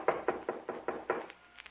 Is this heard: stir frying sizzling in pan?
no